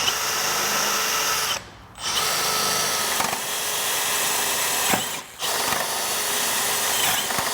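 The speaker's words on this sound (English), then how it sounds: "this is soft brass is what you're drilling into" A power drill whines steadily as it bores into a soft brass lock on a 1978 Vespa P200E scooter, pausing briefly twice before grinding on, close and continuous.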